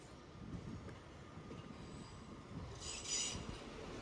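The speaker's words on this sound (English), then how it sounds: "we have a Pendolino arriving" A Pendolino train arrives at Manchester Piccadilly station, a steady low rumble of rolling wheels building slightly, with a brief bright high squeal or hiss near the end; no one talks.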